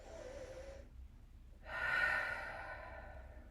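Two-part breathing during a morning stretch routine: a soft inhale, a short pause, then a louder, longer breathy exhale through the mouth, close and clear with no speech.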